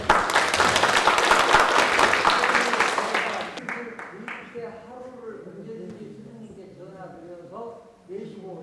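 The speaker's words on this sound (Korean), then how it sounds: "네, 박수 부탁." An audience at a Korean question-and-answer talk applauds in dense, lively clapping for about three seconds, which fades as a voice begins speaking.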